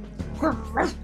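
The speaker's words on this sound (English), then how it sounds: "he's just barking" A cartoon dog barks twice in the video game New Super Lucky's Tale, two short, close, yappy woofs in quick succession.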